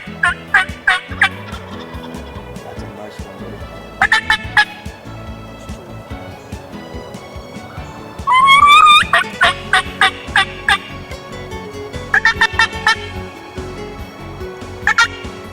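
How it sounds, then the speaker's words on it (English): Wild turkeys gobble in spring woods near a field, loud rattling gobbles repeated in bursts every few seconds, with a high yelping call in between. "The gobbling was heating up in the woods"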